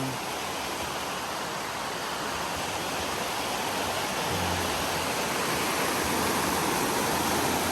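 Steady rushing water of a provincial river fills the scene, a broad continuous hiss and roar, loud and unchanging with no talking over it.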